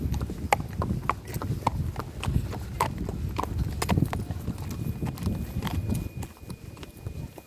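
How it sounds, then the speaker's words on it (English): A racehorse's hooves clip-clop at a steady walking pace while being led toward a paddock, close and clear, with a faint background hum. "I'm going into the front left paddock, the other horse is going to go into the front right paddock."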